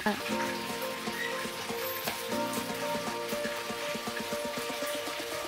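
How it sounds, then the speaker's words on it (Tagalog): Fish frying in a pan of hot oil for a creamy fish dish, a steady dense sizzle with crackling pops running throughout at close range, no talking. "At habang nakaprito ang ating isda"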